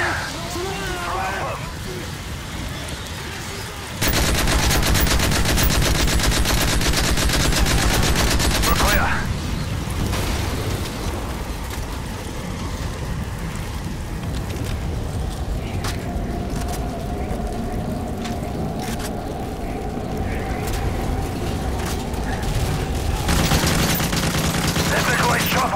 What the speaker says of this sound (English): we've reached Nikolai, but we're under heavy fire